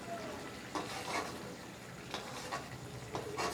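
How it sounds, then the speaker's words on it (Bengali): Pabda fish slipped into boiling curry gravy in a pan, giving a continuous bubbling sizzle with a few soft splashes and stirring clinks, close and fairly loud. "এবার আমি মাছগুলো দিয়ে দিচ্ছি।"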